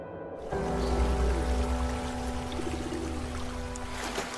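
An indoor tabletop waterfall sends water steadily pouring and trickling, a soft, continuous close-up splashing, with a faint steady hum running under it.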